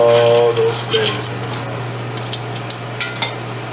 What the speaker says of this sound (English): It's all deglazing. Getting all that flavor from how we browned the bottom.